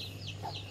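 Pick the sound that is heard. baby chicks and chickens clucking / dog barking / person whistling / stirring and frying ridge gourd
baby chicks and chickens clucking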